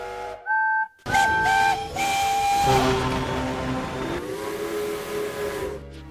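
Loud, shrill toy steam train whistles from a Tomy/Trackmaster Thomas & Friends set blow in long sustained blasts, one after another, with a brief silence between the first two.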